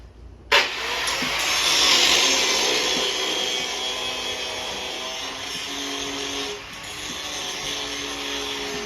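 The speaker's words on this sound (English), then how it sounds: "I'm gonna be grinding some edges off here." An angle grinder grinds the edges off metal on a mini monster truck build. It starts abruptly and then whines steadily and loudly at close range for about eight seconds before easing slightly near the end.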